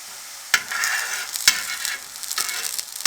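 Makki roti, a cornmeal flatbread, fries in ghee on a pan with a close, steady sizzle, broken by a few sharp scraping clatters of a spoon or spatula against the pan.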